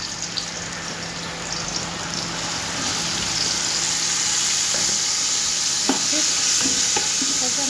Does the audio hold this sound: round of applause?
no